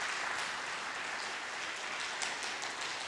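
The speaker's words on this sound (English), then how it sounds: "Please give a big round of applause to all the speakers." A conference audience applauds its speakers, a steady wash of clapping that stays even and moderately distant for a few seconds, with no voices over it.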